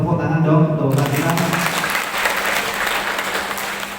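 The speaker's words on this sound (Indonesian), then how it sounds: "Tepuk tangan dong untuk kita" An audience at a halal bihalal gathering of education-office staff breaks into loud, dense applause after a spoken line, the clapping swelling and holding steady as a broad roomful of hands.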